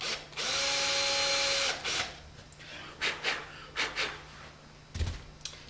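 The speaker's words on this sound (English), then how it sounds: "So I'm going to drill these holes out." A power drill whines in one long burst, then a few short bursts of drilling follow as holes are drilled in a picture frame, close and loud.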